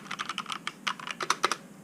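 Rapid typing on a Pichau P531 keyboard with linear Outemu Red switches, a close, quiet run of soft, irregular keystroke clacks with no voices.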